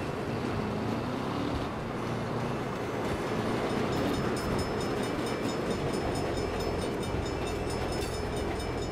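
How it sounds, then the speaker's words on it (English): A train rumbles past steadily in the Saints Row 2 video game, a continuous mid-loud roar with clattering texture and no talking over it. "Bad time for a train."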